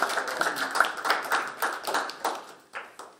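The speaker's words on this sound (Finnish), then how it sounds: "annetaan iso aplodit Tanjalle vielä" Audience applause at a Finnish public talk in Kuusamo, steady dense clapping from many hands that rises and falls and fades near the end, with no talk over it.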